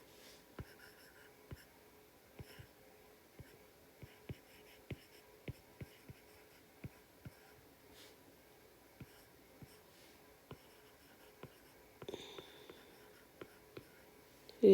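Pen or chalk writes out a polymer chemistry reaction, giving faint, irregular taps and scratchy strokes against a quiet background with soft breathing noises.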